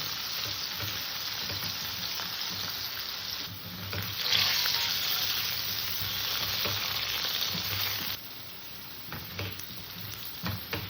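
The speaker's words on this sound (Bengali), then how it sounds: "আলুটাকে আমি একটু ভালো করে ভেজে নেব" Potato pieces fry in hot oil in a pan, a continuous crackling sizzle that swells briefly midway and then eases, close by with no voices.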